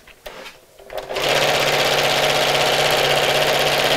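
After a few quiet handling noises, a sewing machine starts and runs steadily at a fast, even whir while stitching around a Christmas gift sack at a shortened stitch length, loud and close.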